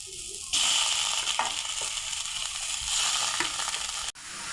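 Ground coconut paste for a beetroot pachadi hits a hot pan with a sudden sizzle, then keeps frying with a steady crackle while a spoon scrapes and stirs it in a few distinct strokes.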